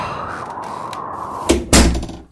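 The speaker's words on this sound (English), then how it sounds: "that feckin' door again." A door bangs twice in quick succession in a radio drama, a heavy thud and then a louder slam, against a steady roar of wild wind outside.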